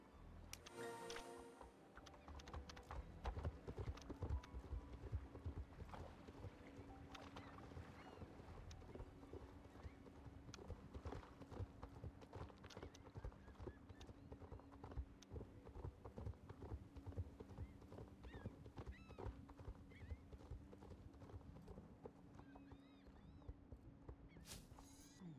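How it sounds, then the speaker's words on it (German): A horse being ridden in the video game Star Stable clip-clops with a steady, rhythmic run of hoofbeats that continues throughout, quiet and faint over a low background drone, with no talking. "Saga, reite dein stolzes Pferd dorthin"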